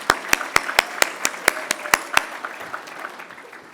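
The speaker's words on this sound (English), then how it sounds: "Applause for everyone." Applause at a service excellence awards ceremony: a run of loud, evenly spaced individual claps up front, thinning and fading out toward the end, with a murmur of crowd underneath.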